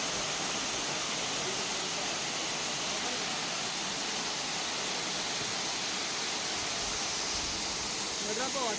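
Abbi Falls near Madikeri in Coorg, running with low water, gives a steady, continuous rushing roar that fills the whole stretch without a break.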